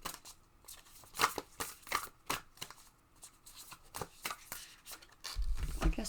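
A deck of tarot cards being cut and shuffled by hand, a run of crisp riffling flicks and slaps close by, with a thud near the end.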